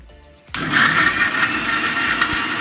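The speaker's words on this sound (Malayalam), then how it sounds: "അപ്പോൾ അത് മിക്സിയുടെ ജാറിലേക്ക് ഇട്ടിട്ട് അരച്ചെടുക്കാൻ പോവുകയാണ്." A mixer grinder whirs up to speed after a brief quiet lead-in, grinding roasted curry paste with water in its jar, a loud steady motor drone with a gritty edge that holds to the end.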